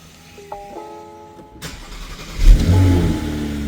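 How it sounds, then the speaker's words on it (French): A Porsche engine cold-starting: a chime and clicks, then a brief starter whir and the engine catching with a loud, close rev that settles into a rumbling high idle. "Démarrage à froid."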